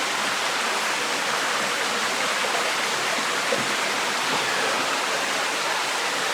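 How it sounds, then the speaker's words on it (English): Water rushes down a steep passage in Deadhorse Cave like a series of rapids, a continuous broadband roar that stays loud and even throughout, with no voices. "So it's almost like a series of rapids or almost a waterfall."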